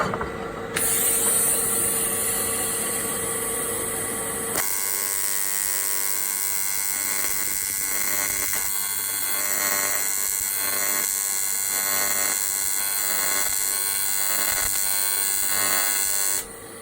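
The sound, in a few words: power brushing a broken motor casing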